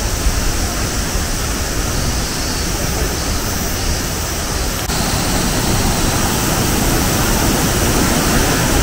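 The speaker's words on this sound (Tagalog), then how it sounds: "Ang lakas nung lagas nung tubig." Minoo Falls sends down a strong, constant roar of falling water, a dense, loud wash of noise close by that hardly changes.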